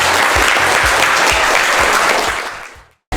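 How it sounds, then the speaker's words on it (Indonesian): Audience at an academic teaching session claps steadily for about two and a half seconds, a dense loud applause that fades out, then silence and a brief return of sound. "Mari kita berikan aplaus."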